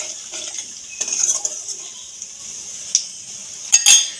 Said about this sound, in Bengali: নেড়ে একটু ভেজে নেব ফোড়নটাকে।